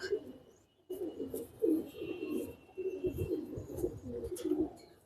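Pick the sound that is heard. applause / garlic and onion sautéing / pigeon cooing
pigeon cooing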